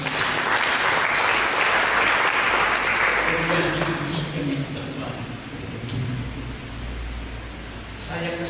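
A church congregation at a sermon applauds together, a dense, loud wash of clapping that starts at full strength and gradually thins and softens toward the end.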